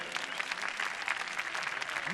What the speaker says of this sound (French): Est-ce qu'on peut applaudir très fort, s'il vous plaît?